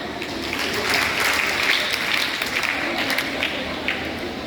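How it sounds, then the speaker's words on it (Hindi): Audience applause at a talk by a guest speaker, a steady crackling wash of many hands clapping, fairly loud and continuous with some voices mixed in. "तालियां जरूर बजाएं"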